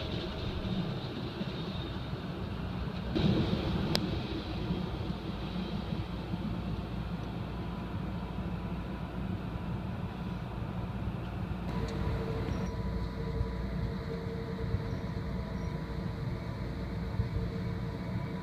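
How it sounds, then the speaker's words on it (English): Amtrak Empire Builder passenger train rolling through Wishram along the Columbia River, a steady continuous rumble of wheels and cars with a brief clunk partway through, close and sustained throughout. "The train is arriving and departing Wishram."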